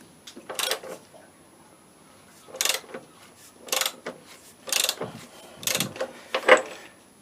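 Ratchet loosening a bolt on a GSXR 600 motorcycle, heard as six separate bursts of ratcheting clicks with short quiet gaps between them, close and fairly loud.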